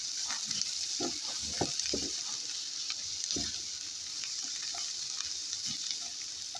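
Onions sauté in a pan with a spoonful of tomato paste for a potato börek filling, giving a steady sizzling hiss with scattered soft stirring knocks and scrapes throughout, fairly close and without any talk.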